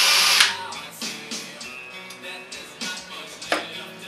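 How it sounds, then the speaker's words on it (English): A power drill whirs in short bursts, drilling out threads in metal on a Pegaso 650 Cube motorcycle, several brief loud pulses separated by pauses, close by. "I'm going to drill the threads out here first."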